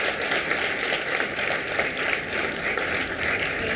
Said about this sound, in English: just clap for her because she's willing to do it